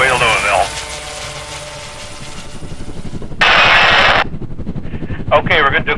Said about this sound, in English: We're going to take the helicopter down.